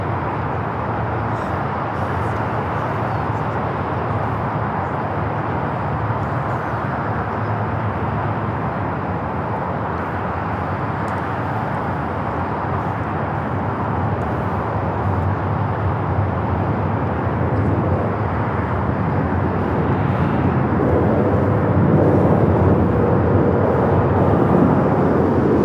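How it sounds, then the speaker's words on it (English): A Korean Air jet, Flight 18, rolling for takeoff on runway 24 Left at Los Angeles International Airport, a steady broadband engine roar that holds throughout and swells louder toward the end, heard from a distance with no voices. "Korean Air Flight 18 Super now rolling 24 left"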